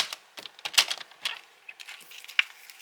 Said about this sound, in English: find 1/2 inch and just cut away